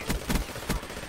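A PPSh submachine gun fired from the hip in a video game rattles off several rapid bursts, loud and close, with no talk over it.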